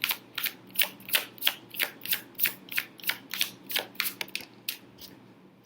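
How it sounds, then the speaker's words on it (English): Playing cards being shuffled by hand, a quick regular run of about fourteen crisp riffling bursts over roughly six seconds, close and fairly quiet with no talking. "You can't see me shuffling on screen, but you can hear it, right?"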